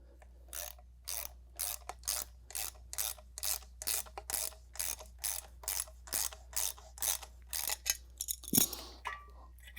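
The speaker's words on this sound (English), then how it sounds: "take a 1/2 inch nut driver or a socket and just snug that down." A 1/2 inch nut driver or socket ratchets a nut snug on a Tornado Surge carpet extractor, a rapid series of about twenty crisp clicking bursts in a steady rhythm, close and clear, ending with a louder clack.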